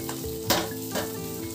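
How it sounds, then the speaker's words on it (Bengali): Bele fish frying in oil gives a short, steady, close sizzle, with two brief louder bursts of spatter over a faint tonal hum. "যেহেতু বেলে মাছ খুব নরম মাছ, একটু সাবধানে ভাজতে হবে"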